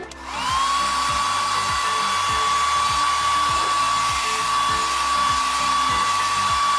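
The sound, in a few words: toy hair dryer drying a doll's hair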